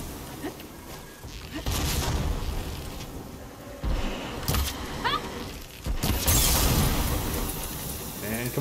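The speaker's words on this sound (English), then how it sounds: "Big explosion." In the video game Horizon Forbidden West, an explosion bursts out as loud booming, crackling blasts. Several impacts stand out amid dense game noise and a player's voice.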